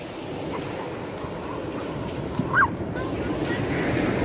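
Surf washes onto a beach in Bombinhas, Brazil, as a continuous broad roar mixed with wind buffeting the microphone.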